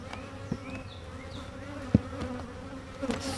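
Honeybees buzz around stacked beehives in a steady, close hum with individual bees passing by, plus a few faint knocks from handling the hive boxes.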